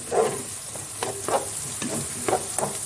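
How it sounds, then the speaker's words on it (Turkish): Onions and beef suet sauté in a pan for a Black Sea collard greens dish, with a steady close sizzle and periodic stirring scrapes. "Soğanla beraber onları daha güzelce kavuruyorum."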